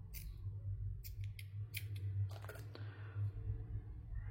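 Scissors snip a piece off craft material for a box: a run of short, close, crisp cuts and clicks in quick irregular succession over a low steady hum.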